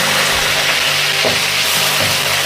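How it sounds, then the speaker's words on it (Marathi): Green peas fry in hot oil for Marathi-style poha, giving a loud, close, continuous sizzle with faint scraping stirs underneath. No one speaks. "त्यामुळे मी हा वाटाणा चांगला तेलात परतून घेणार आहे."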